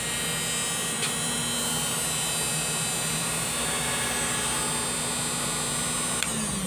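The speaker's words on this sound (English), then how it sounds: "There is no spark inside, and motor is running" A rewound sewing machine motor runs steadily with a continuous high whine and electrical hum, constant loudness throughout with no speech.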